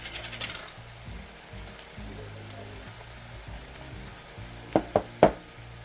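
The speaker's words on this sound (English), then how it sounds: "I'm going to go ahead and stir this around just a little bit so it can incorporate" Ground beef with tomato paste, taco seasoning, salt and pepper sizzles steadily in a pan, a soft constant frying hiss broken near the end by three sharp utensil clacks.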